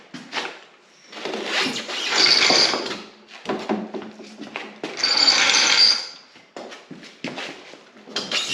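A jack is lowered under the rear suspension of a snowmobile, giving irregular mechanical ratcheting and creaking bursts with clunks and pauses, close and moderately loud.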